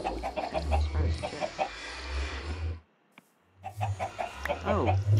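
A chicken in a Minecraft clone game clucks in short, repeated bursts close up, broken by a brief near-silent gap, with a low hum underneath throughout.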